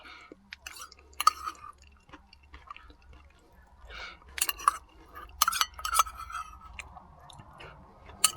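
Close, crunchy chewing of roasted nuts eaten as a snack, with irregular bites and crackles and a few faint clinks, no talking.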